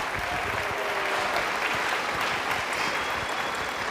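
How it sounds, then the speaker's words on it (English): An audience at a school band Christmas concert breaks into dense, steady applause, many hands clapping together close by for the whole stretch with no voices over it. "Give them a round of applause."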